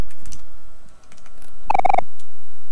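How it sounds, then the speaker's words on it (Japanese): A quick burst of several key presses on a computer keyboard during play of the OMORI video game. The clustered taps are fairly loud, with faint scattered clicks before them and no talking. "押してみていい、キーボード。"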